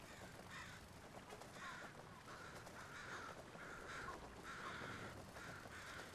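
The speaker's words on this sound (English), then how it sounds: "That's a lot of crows." A large flock of crows in Ghost of Tsushima caws over and over in overlapping bursts, a busy chorus kept faint and in the distance with no talk.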